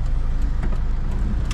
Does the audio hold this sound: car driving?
yes